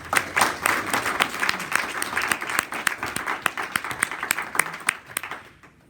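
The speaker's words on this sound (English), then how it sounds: "Let's have a round of applause for Jim Downs." Audience applause for speaker Jim Downs at a talk: a dense burst of many hands clapping that holds steady for several seconds, then thins out and stops near the end.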